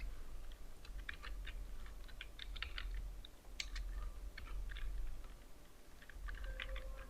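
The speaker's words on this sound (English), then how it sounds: "Type here your form name" Steady, quiet clicking of a computer keyboard as a form name is typed, in short bursts of keystrokes with brief pauses, close and alone.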